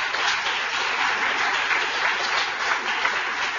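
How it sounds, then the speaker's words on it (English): A crowd at a vice-presidential speech in Sacramento gives loud, sustained applause that holds steady as a dense wash of clapping from start to end, with no speech. "Could the people that are looking on give all these families and businesses a big round of applause?"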